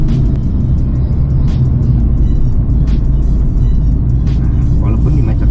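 Tuned stage 3 VW Golf GTI MK6 driving in slow, congested traffic, a deep steady engine drone and low rumble throughout, heard from inside the car with someone talking over it.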